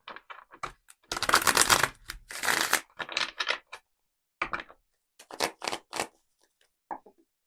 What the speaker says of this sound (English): Let me give this a little shuffle.